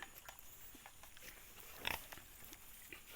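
Farm-raised wild boar pigs at feeding time: a faint, distant grunt stands out once amid quiet scattered snuffling and rustling, with soft low background noise.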